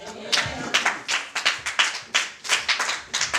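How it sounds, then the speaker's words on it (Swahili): Church congregation clapping in rhythmic bursts, a steady beat of grouped claps at close range, repeated through the whole stretch with little talk. "Pigie Bwana makofi mengi"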